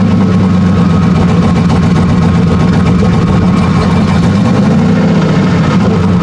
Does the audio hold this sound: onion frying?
no